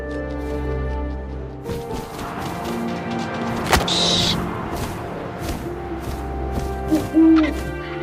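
An owl hoots in the video game What Remains of Edith Finch, a few loud close calls set against a steady ambient game soundscape with a sharp crash midway.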